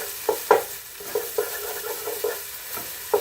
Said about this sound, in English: I'm caramelizing the onions